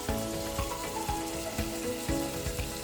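Spanish paprika hits hot oil in a frying pan, giving a steady, close, bright sizzle with faint rhythmic scraping throughout.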